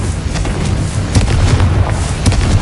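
Booming blasts from Confringo and Bombarda spells in Hogwarts Legacy, several loud explosive impacts landing amid continuous rumbling game audio.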